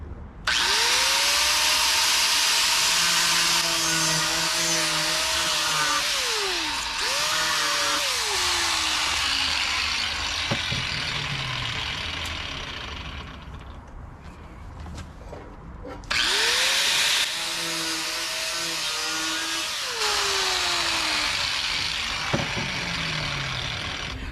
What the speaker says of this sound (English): So I'm going to use a grinder because quick and easy, straight through